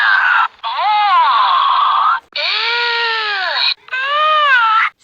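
Boo sounds from a talking Teletubbies plush toy: three loud, bright electronic vocal bursts with sliding pitch, separated by brief gaps, close and alone.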